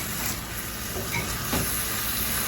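Eggs fry with a steady, close sizzle in an old, well-seasoned cast iron pan while a utensil scrapes and stirs them up off the bottom, with a few soft scuffs over the constant hiss.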